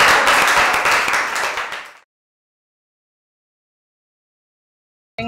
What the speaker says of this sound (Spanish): un aplauso para Anderlin